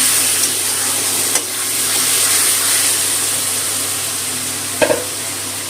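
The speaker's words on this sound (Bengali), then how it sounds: "মশলা খুব ভালো করে কষিয়ে নিচ্ছি, মশলা থেকে তেল ছেড়ে গেছে।" Spice paste fries in oil in a pan for stuffed pointed gourd dorma, with a steady hissing sizzle, a constant low hum and a few brief stirring clicks.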